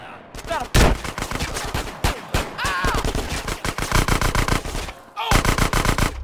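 Rapid automatic gunfire in Grand Theft Auto: San Andreas, loud sustained bursts of shots fired back to back with only brief breaks, close up, while a voice speaks over parts of it.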